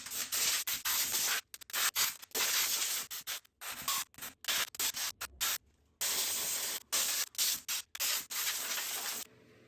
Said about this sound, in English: we're going to take this out and give it a spray